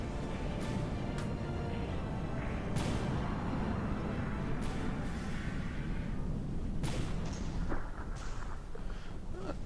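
Explosions erupting aboard a combat vessel in the naval warfare game From The Depths, a steady roar of distant blasts and booms rumbling continuously with occasional sharper bursts, no talking.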